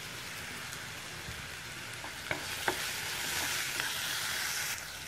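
Crushed garlic sautéing in a pan gives a steady, close sizzle of frying with a few light scrapes and clinks of stirring, no voices.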